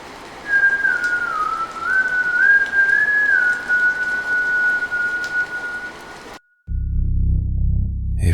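A lone, eerie whistled tone drifts and wavers slowly before holding one long steady note over a soft rain-like hiss, then cuts off abruptly into a low rumble.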